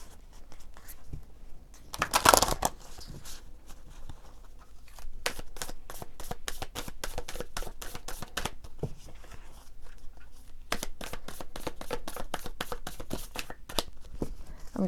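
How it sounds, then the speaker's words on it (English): Oracle cards being shuffled by hand, a quick run of crisp riffling flicks and soft slides, close and steady, with one louder burst of shuffling near the start and no voices. "now I'm going to shuffle out a super attractor oracle message for you guys."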